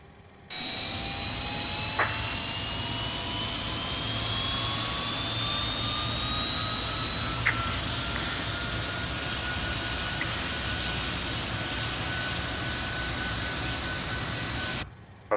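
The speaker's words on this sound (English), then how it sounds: "That's our little engine." A Fokker F28 jet engine runs steadily in Microsoft Flight Simulator, a continuous loud whine with rising tonal lines over a broad roar, and no talk.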